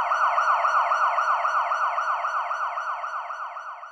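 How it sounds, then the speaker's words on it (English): Police siren sound effect, a loud, clean electronic wail cycling rapidly up and down in a steady repeating pattern, heard alone without other noise. "sounds of police sirens"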